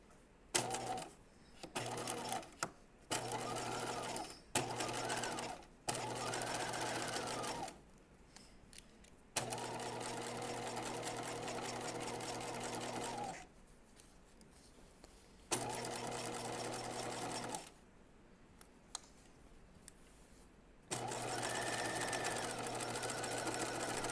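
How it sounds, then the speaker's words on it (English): Sewing machine stitching denim for a pair of Marilyn jeans, running in fairly close, steady bursts of rapid whirring that stop and start repeatedly with short silent gaps between runs. "we're ready to start stitching, and I have my needle in the center"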